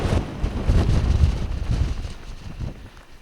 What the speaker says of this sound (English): the cabin is extremely windy out here. Like, unbelievably windy.